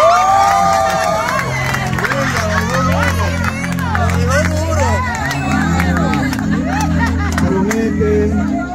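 Wedding guests at a ceremony clapping and cheering, with loud excited voices and shouts layered over scattered applause, a lively crowd close by throughout.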